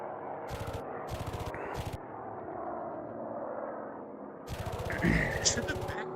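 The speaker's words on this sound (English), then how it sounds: "Both gunners firing at each other" Rapid machine gun bursts from the rear gunners of BF-110 aircraft in a multicrew flight game dogfight, three short bursts early then a longer heavy burst near the end, over a steady engine drone with voices talking throughout.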